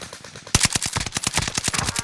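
Gunfire in Call of Duty Warzone, with a few faint shots followed by a loud, rapid automatic burst of evenly spaced rounds that fire close by for over a second.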